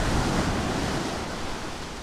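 Sea waves wash against the shore under a steady wind, a loud, broad, continuous rush with a gentle swell, heard alone with no voices.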